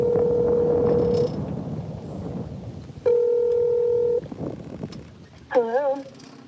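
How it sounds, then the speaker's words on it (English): Telephone keypad tones sound in two long sustained steps during a live radio show call, under a chatty voice, before a brief warbling tone. "I'm dialing the phone number right now."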